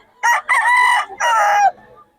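A two-year-old Red Kelso gamefowl rooster crows close by, a loud, clear cock-a-doodle-doo in two drawn-out bursts with a short break between them, with no other sound.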